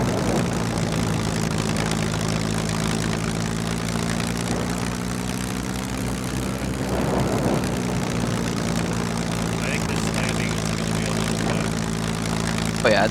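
Propeller airplane engine in the SCUM survival video game droning steadily as the throttle comes up on landing approach, a continuous near hum with layered tones throughout.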